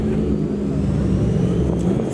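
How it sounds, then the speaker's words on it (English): Car engines idle and rumble steadily as Holden cars arrive at a crowded Holden car show, with a continuous close motor drone and no clear passes. "there's more cars turning up"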